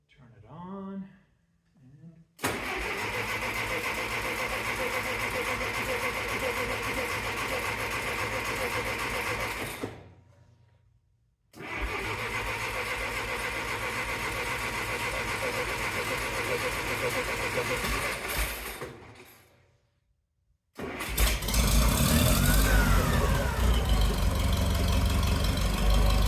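A Case 440 tractor engine fires up and runs at a steady idle, a loud even mechanical chugging that cuts out, restarts for another long stretch, stops again, then roars back louder near the end.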